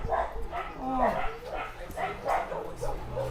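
A dog barks in short yips and bow-wows several times, mixed with people talking nearby outdoors on a trip in Dominica.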